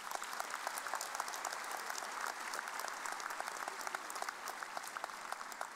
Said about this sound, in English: Please give this group of administrators a round of applause.